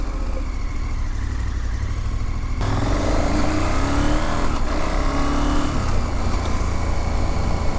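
A 2019 KTM 1290 Super Adventure S motorcycle engine pulls hard under acceleration, a loud, steady, gravelly drone that rises in pitch and fills the whole stretch without a break.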